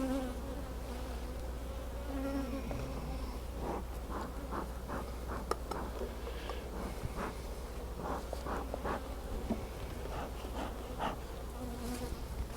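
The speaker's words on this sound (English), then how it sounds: "Look at all those bees." Honey bees buzz steadily around an open beehive in a bee yard near the end of a honeyflow, a dense continuous drone with individual bees passing close, and faint handling noises.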